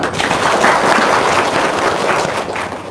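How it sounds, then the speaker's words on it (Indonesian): Audience applause at a seminar-style gathering, a loud, sustained burst of many people clapping that fills the whole stretch and tapers slightly toward the end, with no speech over it. "Oh, tepuk tangan dong."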